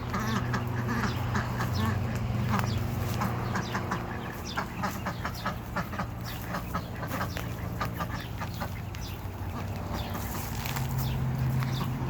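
A flock of ducks quacks over and over in lively, overlapping bursts nearby, above a low, steady hum.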